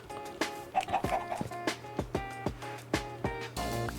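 A Minecraft cow's moo played in reverse, a drawn-out tonal bellow with a rising swell, repeated over several seconds among sharp knocking taps and a low steady hum.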